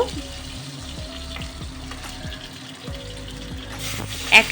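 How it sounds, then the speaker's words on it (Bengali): Tangra fish frying one at a time in hot oil, a soft, steady sizzle under a low humming drone with rising tonal sweeps, ending in a brief sharper splash. "ট্যাংরা মাছগুলো এবার আমি একটা একটা করে ভেজে নেব"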